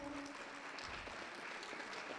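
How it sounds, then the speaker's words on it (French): A pageant audience gives contestants a short, steady round of applause, the clapping continuous and fairly distant with a faint voice briefly in the background. "On peut les applaudir très très fort."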